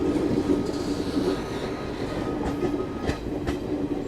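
A Garib Rath express from Chennai to Delhi rolls along the rails with a steady, loud rumble and rhythmic clickety-clack of wheels over joints, heard from inside the carriage with no talking.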